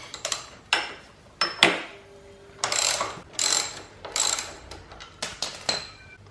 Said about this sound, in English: On the left hand side of the bike we just need to undo these 2 bolts here.